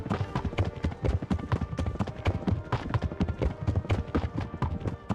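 Heavy horse hooves in a video game, a rapid, loud and close clip-clop of a running gait, each strike thudding in a steady rhythm, with no other sound standing out.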